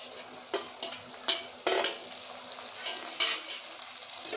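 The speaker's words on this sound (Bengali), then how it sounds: "আমি আবার এগুলো আমি সুন্দর করে কষিয়ে নেব।" Onion and chopped tomato fry in a pan, giving a steady close sizzle broken by soft scraping stirs, with no voices.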